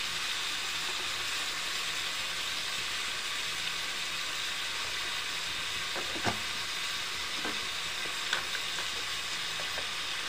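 Deshi chicken kosha fries in a spiced pan over gentle heat, a steady close sizzle throughout, broken by a few sharp scrapes and clinks from stirring.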